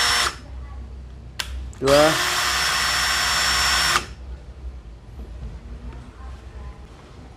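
A cordless drill with a repaired wobbly drill head whirs in brief bursts, then spins up with a rising pitch and runs steadily for about two seconds before stopping, close by, with a few spoken words around it.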